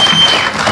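Crowd applause at an outdoor geothermal groundbreaking event in Nakuru for the county governor, a brief, loud, dense burst of clapping.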